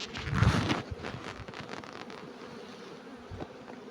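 Honeybees buzzing in a ten-frame hive body during an early spring colony inspection, a dense close hum that swells at the start and then settles into a steady, softer drone.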